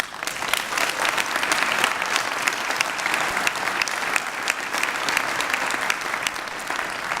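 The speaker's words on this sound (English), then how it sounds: "That applause" Steady applause from a parliamentary audience at Science meets Parliament, dense even clapping from many hands sustained without pause for several seconds.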